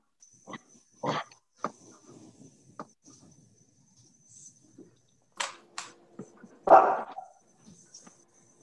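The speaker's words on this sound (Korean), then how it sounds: "집에서 나는 소리야, 강아지?" A pet dog at home gives a few short, scattered barks and yelps between quiet gaps, heard indoors alongside brief bits of people talking.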